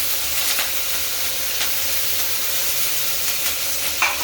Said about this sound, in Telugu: నేనైతే కరివేపాకు వేస్తున్నా.